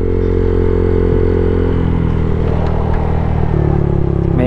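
Loud, close motorcycle engine idling with a rough, throbbing rumble and faint mechanical clatter, steady throughout with no talking.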